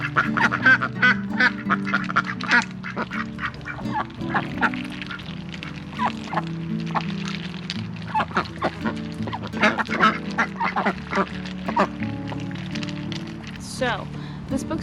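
Pet ducks quacking as they crowd around a pan of ice cubes and frozen peas, a busy flock with steady overlapping quacks and honks, near and loud, with a person talking over them.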